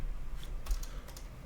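Quick bursts of typing on a computer keyboard, heard as close, soft clicks clustered together in a short run, with no voices.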